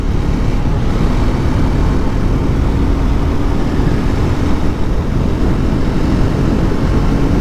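A Triumph Scrambler 400X motorcycle accelerates in sixth gear on an open road, heard as a loud, continuous engine drone mixed with heavy wind rush and no talk.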